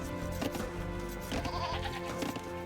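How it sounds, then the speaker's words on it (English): Sheep in the video game Age of Empires II bleat in short, repeated calls over a steady game soundtrack, with a few soft chopping clicks mixed in. "you guys are going to start going after the sheep."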